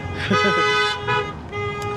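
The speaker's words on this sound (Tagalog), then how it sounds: "Laban na busina." A car horn toots on a street in Pakistan over a busy mix of voices and street noise, close by and fairly loud.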